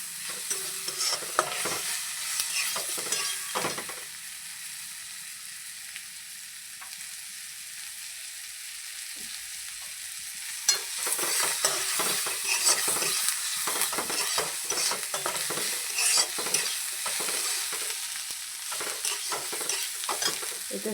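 Chopped tomatoes and ground spices stir-fried in a pan, a steady close sizzle with repeated scraping and stirring strokes throughout, quieter for a stretch in the middle before vigorous stirring resumes.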